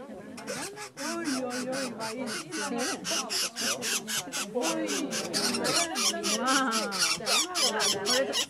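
A three-toed woodpecker, the only woodpecker with yellow on its head, gives a loud, rapid series of harsh rasping call notes close by, repeated steadily throughout with scraping, squawk-like texture.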